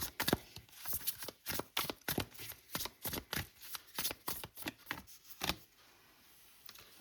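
Tarot cards are shuffled up close in a quick, rhythmic series of about a dozen crisp riffling bursts, which stop near the end and leave quiet.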